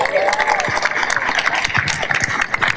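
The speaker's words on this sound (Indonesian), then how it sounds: "Tepuk tangan." An audience in a gathering claps together, giving a dense, steady burst of applause that carries over nearby voices and some cheering.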